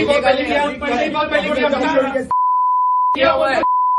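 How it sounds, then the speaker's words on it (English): Censor beeps covering abusive words in a heated street confrontation: a steady pure tone cuts in twice after loud shouting voices, with a brief burst of speech between the two beeps. "I had to beep out some of the abuses"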